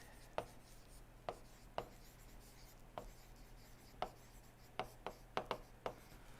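Chalk or marker writing on a board during an engineering lecture: a series of about a dozen short, sharp taps and scratches at irregular intervals, clustered toward the end, faint against a quiet room hum.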